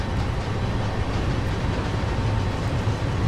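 A passenger train in the Train Sim World game rolls into a station and brakes toward a stop, heard as a steady, loud low rumble of wheels and carriage noise with no distinct squeal.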